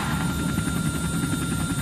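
Steady, low droning hum of a helicopter cabin in the horror video game Outlast 2, an even rotor-and-engine rumble with a faint buzz, continuous and fairly quiet with no voices.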